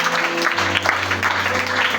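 A church congregation cheers and claps for the Lord Jesus Christ, a steady wash of applause and crowd noise close and loud for two seconds, with faint voices mixed in.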